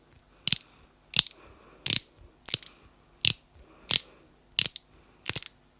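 A makeup product's twist-up winding mechanism clicks sharply in a steady series of about ten ratcheting snaps, close and crisp, with near-silence between them.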